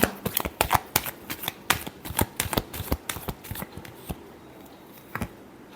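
Tarot cards are shuffled by hand in quick, irregular bursts of crisp riffling and slapping, close and fairly quiet, fading out toward the end.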